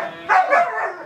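Dog barking in a short burst of two or three harsh, close barks at moderate loudness, with no talk over them.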